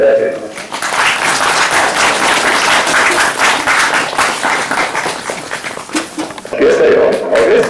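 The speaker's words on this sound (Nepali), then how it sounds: "ताली बजाइदिनु" An audience at a Nyungney retreat gathering claps steadily for several seconds, a dense wash of hands that thins near the end before a voice speaks over it.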